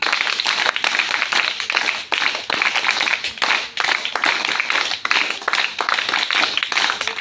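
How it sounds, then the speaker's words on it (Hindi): Students clap in unison through five sets of rhythmic claps, a steady run of sharp, close hand claps with brief gaps between sets. "5 सेट ताली बजाने के लिए आप तैयार हैं?"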